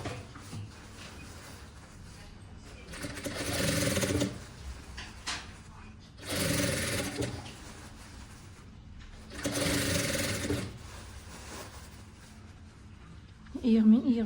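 Sewing machine stitching a vest in three separate bursts of rapid mechanical whirring, each a couple of seconds long, separated by quieter stretches with fabric handling and a little talk.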